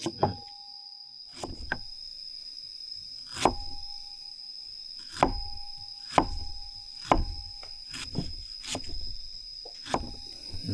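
Garlic and galangal pounded with a pestle in a mortar, around ten sharp dull thuds at an irregular, unhurried pace, close and fairly loud over a quiet background.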